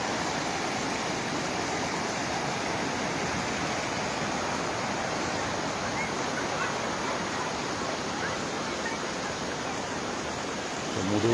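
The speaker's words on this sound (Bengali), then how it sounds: "যথারীতি পাঁশকুড়া স্টেশনের দিকে জল যাচ্ছে" Floodwater rushing across inundated fields near Panskura station, a dense, steady roar of moving water that holds at an even loudness throughout with no voices.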